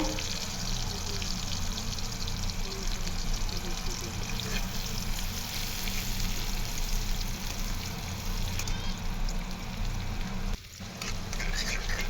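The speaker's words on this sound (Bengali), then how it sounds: "এখানে প্রথমে কড়াইতে তেল দিয়ে এর মধ্যে পেঁয়াজ কুচি দিয়ে দিয়েছে।" Chopped onion frying in oil in a wok (kadai), a steady close sizzle running throughout with light stirring, briefly dipping near the end.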